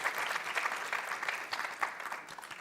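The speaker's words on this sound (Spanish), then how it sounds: "Denle un aplauso a Dios fuerte, por favor" A church congregation applauds together, a brief burst of many hands clapping that sounds fairly soft and distant and swells slightly in uneven waves.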